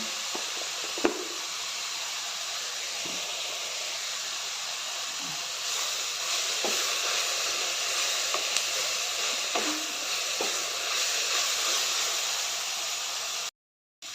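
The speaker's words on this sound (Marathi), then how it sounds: "कांदा टोमॅटो गाजर सर्व व्यवस्थित चांगलं भाजून घेतलेलं आहे" Salted onion, tomato and carrot fry in a pan for carrot rice, giving a steady close sizzling hiss with a few faint knocks and taps.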